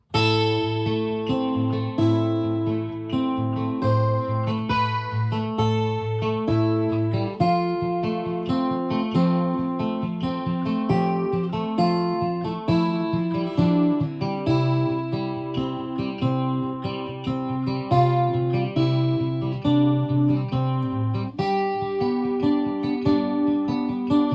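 A steady fingerpicked acoustic guitar pattern with plucked bass notes and higher strings alternating in an even, flowing rhythm, played alone.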